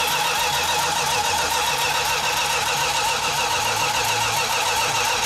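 A Dodge Super Bee engine, an A12 car with carburetors, cranks over nearby: a continuous, loud, rhythmic starter whir with repeating pulses, never catching into a clear idle, and no voices.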